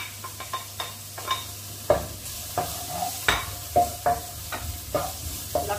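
Onion frying in a pan for a simple pork giniling, with a steady soft sizzle and repeated scraping stir strokes close by.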